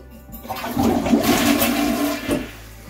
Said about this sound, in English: Let's flush the toilet and see what it does now.